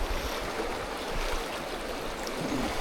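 A river stream flows steadily along a salmon fishing spot, producing a continuous, even rush of water that runs alone throughout without any voices.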